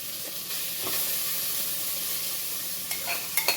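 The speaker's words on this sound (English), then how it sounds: "So I'm gonna put the corned beef in the pot" Already-cooked corned beef heats in a pot with leftover oil, giving a soft, steady sizzle and hiss, with a few faint clinks of stirring near the end.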